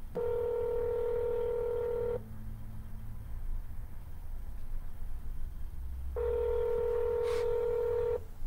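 Telephone keypad tones while making real estate cold calls: two long steady dialing tones, one at the start and one near the end, separated by a quieter gap of low background hum.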